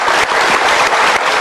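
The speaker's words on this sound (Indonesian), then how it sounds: "Kita berikan tepuk tangan dulu." A short burst of loud, dense audience applause in a seminar hall, continuous and close throughout.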